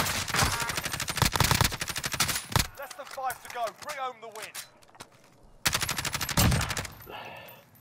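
Gunfire in Call of Duty: Modern Warfare, with long rapid automatic bursts that are loud and close, a pause filled by brief talk, then another sustained burst.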